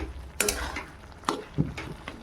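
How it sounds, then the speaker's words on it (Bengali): Bottle gourd curry being stirred in a pan, with a few distinct scraping clinks of a spoon against metal spaced over a quiet background, no talk. "নেড়ে নেবো একটু, তো তরকারির সাথে ভালো করে মিশিয়ে দেবো।"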